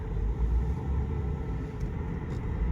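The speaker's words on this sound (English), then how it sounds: "Let's take this thing for a drive." A 1994 Lincoln Town Car Executive Series drives along smoothly, heard from inside as a steady low road rumble and soft engine drone, with no talk.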